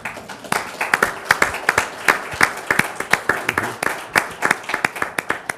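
A conference audience claps at the close of a panel, a dense, fairly close round of applause with many overlapping hand claps continuing steadily throughout.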